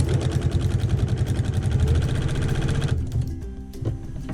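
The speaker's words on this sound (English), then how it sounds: "I bought this sewing machine last year." A Brother sewing machine quilting a table runner runs fast with a rapid, even mechanical clatter, then slows and stops near the end, leaving a quieter hum with a few clicks.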